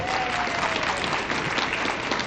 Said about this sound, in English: You got greater applause than I did